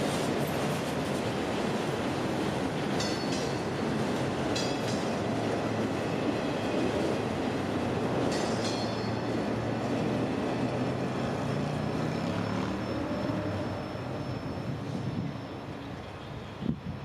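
A train rolls past on the S-Line in Plant City, a steady, loud rumble of wheels and rail noise that holds throughout, with brief squeals and clatter and the sound easing slightly near the end.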